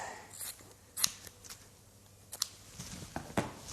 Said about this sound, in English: Scissors will be needed to cut.